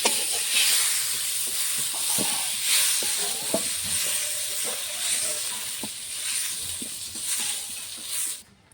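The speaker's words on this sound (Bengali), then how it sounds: "কপিটা হালকা করে ভেজে নিচ্ছি" Cauliflower frying lightly in oil, a loud continuous hiss and crackle with occasional soft clinks of a stirring spoon before the sizzle cuts off abruptly at the end.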